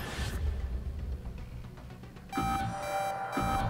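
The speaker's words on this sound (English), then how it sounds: "Your partner cut right through the alarm." An electronic alarm in the Operation Tango video game sounds as a steady, repeating tonal beep pattern that starts partway through and pulses in loud bursts over game background noise, with no voices.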